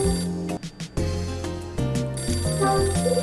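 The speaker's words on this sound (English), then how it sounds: "Phone's ringing." A telephone in the Hotel Dusk video game rings in repeated electronic bursts over a background tune, loud and close, with no one speaking.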